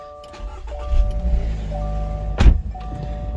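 A 2023 Subaru BRZ Sport Tech started by push button, with a brief crank and catch around the middle and a steady engine note after it. It sits over a low, humming cabin background.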